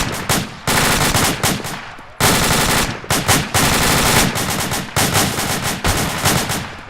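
Rapid automatic gunfire from a squad drill fires in long, loud, sustained bursts at close range, broken by brief pauses between volleys.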